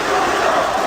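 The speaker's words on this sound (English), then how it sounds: "The one big difference maker is this insane crowd that just won't stop." A packed esports arena crowd at a CS:GO quarterfinal in Krakow roars and chants continuously, a loud dense wall of voices with no pause.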